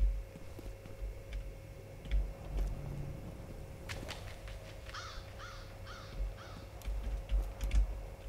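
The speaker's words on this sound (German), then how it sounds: "Da oben ist ein Rabe." Raven cawing in the video game F.E.A.R., a series of harsh, repeated caws in a rapid cluster, moderately loud over a steady low game hum with scattered clicks and ticks.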